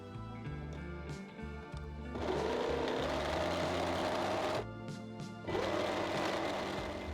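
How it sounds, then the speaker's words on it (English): An overlocker runs along a fabric hem in a steady, loud mechanical whir, starting at lower speed, then racing in two long bursts with a short pause between them. "I will prepare the hem by overlocking it."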